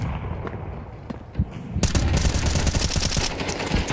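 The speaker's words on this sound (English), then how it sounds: "Good shooting outside from Bro." Rapid bursts of automatic gunfire from MP9s and other weapons crackle through a Counter-Strike 2 match at a European RMR tournament. The shots are dense, sharp and loud, and the firing grows heavier halfway through.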